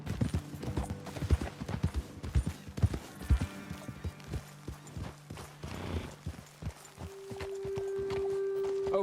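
Hooves clip-clop in an irregular walking rhythm as horses move in Red Dead Redemption 2, close and fairly loud, with game music or ambience rising in the last few seconds.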